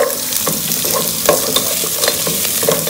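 Peas and carrots frying in a pan for chicken fried rice, a loud steady sizzle with quick rhythmic scrapes and taps of a spoon as they are stirred.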